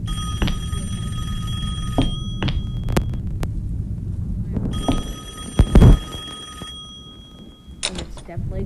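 An old-style telephone bell rings in two long bursts inside a horror video game about an intruder, separated by a pause, with low rumbling game ambience and a brief thud.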